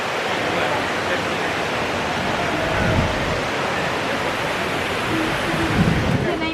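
The Trevi fountain in Rome splashes and rushes continuously, a dense steady wash of falling water filling the scene at moderate loudness with no clear voices on top.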